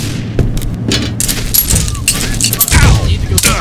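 Gunshots in the video game Brain Bread 2, a scattered burst of loud booming reports at close range, mixed with shouting voices and thuds over several seconds.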